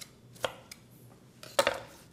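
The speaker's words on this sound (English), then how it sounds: "So I just take a knife and I cut it a little bit" A knife cuts through strung daikon ribbons in a few crisp, separate chops, louder near the end of a quiet stretch. No one speaks.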